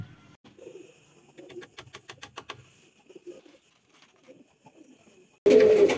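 Pigeons in a pigeon loft give soft, low, intermittent coos, mixed with light tapping and clicking sounds, before a sudden loud burst of noise right at the end.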